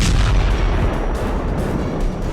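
A Storm Shadow missile strike on a Russian naval base: a loud, continuous booming roar of explosions with a heavy low rumble, sustained throughout without letup.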